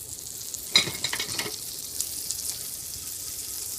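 Butter hits a hot skillet while steak is being cooked and sizzles sharply, with a crackling burst at first that settles into a quieter steady fry.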